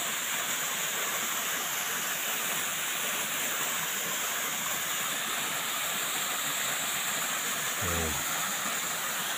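A steady, loud rush of falling water roars without pause from a long waterfall, close and broadband, with a brief low thump near the end.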